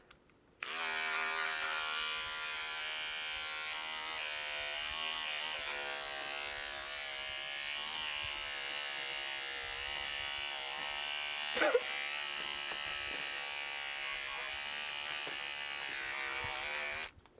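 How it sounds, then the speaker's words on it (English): Electric trimmer used while sewing a Sophie dress costume from Howl's Moving Castle, buzzing steadily and loudly from start to finish with a brief sharp blip near the twelve-second mark. "Trimmer."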